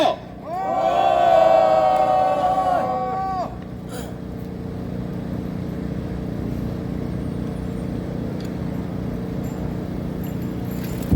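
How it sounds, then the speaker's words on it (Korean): At an outdoor press conference, a crowd lets out a loud, sustained shout in unison lasting about two seconds, then drops to a low murmur of background noise and distant traffic. "우리 모두를 위하여 힘찬 격간 함성 2초간 부탁드립니다"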